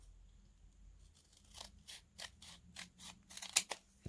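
Scissors snip through an old book page in a quick series of about eight crisp, close cuts, each rising in pace, in a quiet room.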